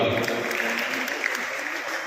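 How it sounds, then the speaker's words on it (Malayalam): Applause for Shaji sir at a school event, an audience clapping together in a steady, even wash throughout, without a break. "നല്ലൊരു കൈയടി കൊടുക്കാം"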